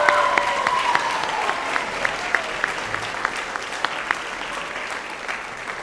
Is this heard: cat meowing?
no